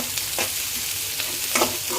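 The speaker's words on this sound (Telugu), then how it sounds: "లైట్గా ఉల్లిపాయ వేగిన తర్వాత క్యారెట్ ముక్కలు వేసుకోవాలి." Onion and carrot pieces fry in a pan with a loud, hissing sizzle, punctuated by a few scraping stirs, close and steady with no voices.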